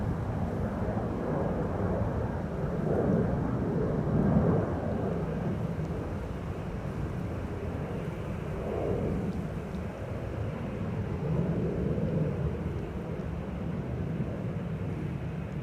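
A taxibot tug and a Boeing 737 idle near each other on the apron at Amsterdam Schiphol Airport. Jet engine noise forms a steady, faint, distant rumble, with wind buffeting the microphone and slight swells in loudness.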